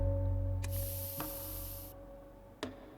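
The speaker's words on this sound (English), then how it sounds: "We'll pepper spray." Pepper spray in the police tactics game This Is the Police 2 lets out a burst of pressurized hiss lasting over a second, with a couple of short clicks and thuds against a low steady game hum.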